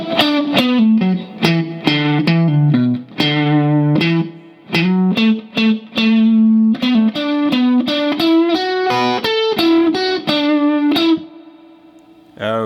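Distorted electric guitar plays two lead licks from a song's second solo: sustained, bending notes with effects and reverb, loud and alone, ending in a held note that fades.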